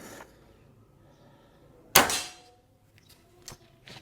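A single sharp air rifle shot cracks out mid-clip, followed by a brief metallic ring, then a few faint clicks in a quiet outdoor setting.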